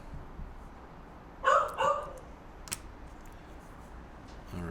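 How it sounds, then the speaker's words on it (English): A pet dog barks at a neighbor from farther away in the house, two short muffled barks standing out over a quiet room, followed by a faint click. "He's barking at the neighbor."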